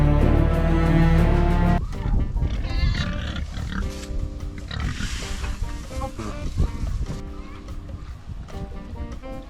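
Pigs on a hillside farm grunt and squeal amid steady outdoor background noise, with a loud harmonic burst at the start.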